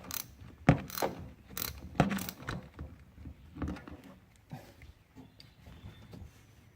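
Close, quiet ratchet clicks as a socket loosens the bleeder screw on a Duramax diesel fuel filter housing, sharp bursts of clicking in short uneven runs.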